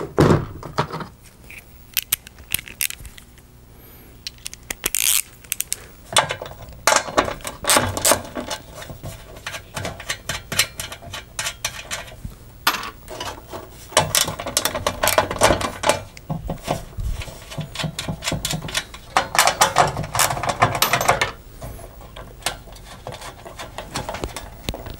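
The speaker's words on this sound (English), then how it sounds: "now we got to take these 4 nuts off, and then the whole joystick assembly will come off" A socket wrench ratchets nuts off the studs of an arcade game joystick assembly, with intermittent bursts of clicking and metallic handling, close and moderately quiet, separated by pauses and shuffling.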